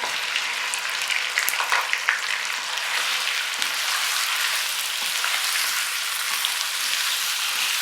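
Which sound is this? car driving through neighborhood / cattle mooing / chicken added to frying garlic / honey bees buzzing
chicken added to frying garlic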